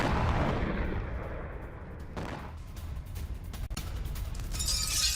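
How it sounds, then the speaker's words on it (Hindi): Explosions from a drone strike bombardment in Voronezh, Russia: heavy booming blasts with rumbling, crackling debris and sharp cracks, loud and dense throughout with no voices. "रूस के वोरोनेज में भीषण बमबारी हुई है"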